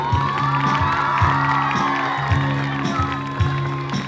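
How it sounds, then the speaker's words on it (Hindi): Crowd at a residential school performance event cheering and whooping for a student, voices rising over steady music with a rhythmic beat throughout, fairly loud and close, with some scattered clapping mixed in. "जोरदार तालियां बजे समीर कुमार के लिए"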